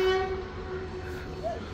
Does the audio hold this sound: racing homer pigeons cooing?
no